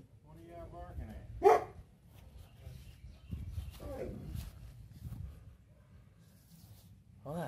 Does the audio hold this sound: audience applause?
no